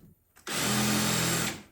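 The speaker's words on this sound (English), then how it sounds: "I'm going to put the drill in reverse on high speed." A power drill set in reverse on high speed, countersinking screw holes in wood, spins up to a loud, steady whine for about a second, then winds down, close by with no voices.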